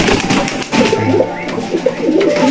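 Pigeons coo at a farm keeping local and foreign pigeons, with low, rolling coos repeating steadily and close by, alone with no talk.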